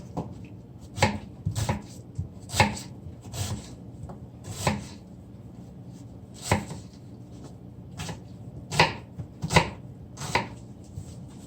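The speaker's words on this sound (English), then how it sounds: "This is the onion. I'm gonna cut." A knife chops an onion on a cutting board in a home kitchen. Crisp, close knocks land one at a time at an uneven pace, about a dozen across the stretch, with no talking.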